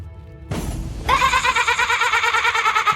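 Sheep bleating in the Divinity: Original Sin Enhanced Edition video game, a loud wavering animal cry rising after a sharp sound, with game ambience underneath.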